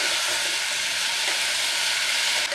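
Bottle gourd sizzles and fries in a pan over high flame while being stirred, a steady close hiss of frying with faint scraping throughout and no voices.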